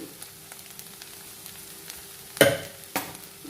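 Stirring of an amaranth leaf fry in a pan with garlic cloves, salt, coriander powder and chili powder: a quiet background hiss broken by two short scraping strokes close by near the end.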